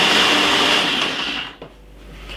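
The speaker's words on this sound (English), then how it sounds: "If I get my Ninja blender right over here" A Ninja blender whirs loudly at a high, steady pitch while blending cucumber juice, then spins down and cuts off about a second and a half in, leaving a quiet room.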